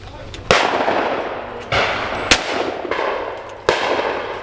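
Shotguns fire at clay targets in the UK, with four sharp, loud blasts spaced a second or more apart, each trailing off in a short outdoor echo.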